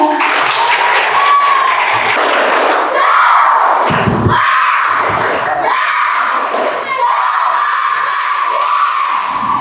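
Elementary schoolchildren at an Indonesian primary school clap and cheer together, a loud, continuous roar of young voices and hands with shouts and whoops rising over it throughout.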